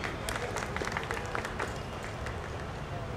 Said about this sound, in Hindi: एक बार पुनः जोरदार ताली।